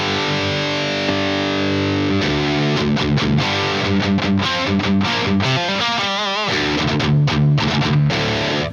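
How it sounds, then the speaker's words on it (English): A Marshall 800 amp driven to high gain by an electric guitar. A sustained distorted chord gives way to choppy, palm-muted riffing with short gaps, heavy and loud throughout. "You hear, there's that 800, and especially the Bad Boy has that."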